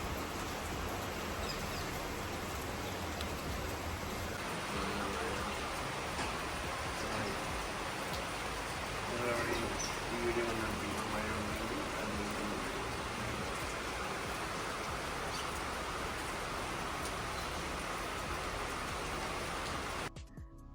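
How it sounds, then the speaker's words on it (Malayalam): Heavy rain pours steadily as a dense, even hiss for the whole stretch, loud and constant with no voices. "എണീറ്റപ്പോൾ നല്ല മഴയാണ്"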